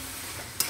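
A spoon stirs shrimp curry (chingri) in a hot pan, a soft, faint scrape and sizzle that ends in one brief louder clink or scrape.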